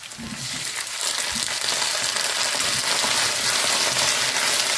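Chopped tomatoes sizzling in hot oil in a frying pan while making pirandai thuvaiyal, a loud steady hiss filling the whole stretch, close up, with faint stirring beneath it.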